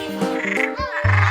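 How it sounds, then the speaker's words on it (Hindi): A frog croaks in a few close, loud, throaty calls within a short burst, with no talking over it. "वाह, यह एक मेंढक है।"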